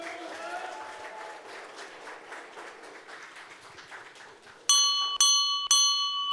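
Steady applause from a crowd at a Democratic Party joint rally for Jeongeup mayoral candidates fills the first few seconds, then three bright, ringing bell strikes cut in near the end.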